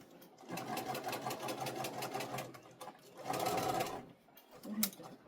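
A sewing machine bastes a seam in two separate bursts of rapid, even stitching with a short pause between them, followed by a faint clunk, all at a fairly quiet level.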